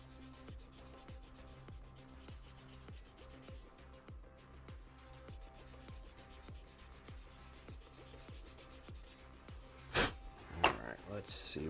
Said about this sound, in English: Sometimes you just got to pull out the good old 180 grit and hog at it